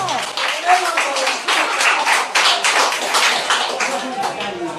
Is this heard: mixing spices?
no